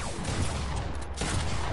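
Dense, continuous gunfire in the video game Fortnite, a loud sustained barrage with only a brief dip midway, filling the whole stretch.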